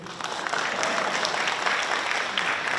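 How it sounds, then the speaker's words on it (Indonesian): An audience in a conference ballroom session claps, steady dense applause filling the room for a few seconds. "Boleh kalau tepuk tangan Bapak Ibu?"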